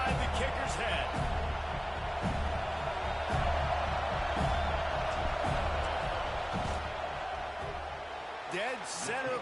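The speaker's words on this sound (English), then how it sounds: "This crowd trying to do its part to get inside the kicker's head." Stadium crowd noise during a field goal attempt in the NCAA 26 college football video game, Michigan playing, a steady roaring crowd under a commentator's voice, with a few scattered thumps and whistles.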